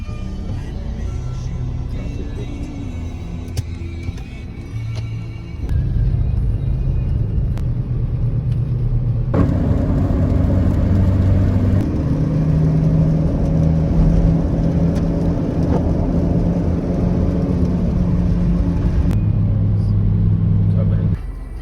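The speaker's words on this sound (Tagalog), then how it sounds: "Traffic." Road traffic rumbles close by, with car engines droning and whirring steadily at loud, fluctuating levels and shifting in character partway through.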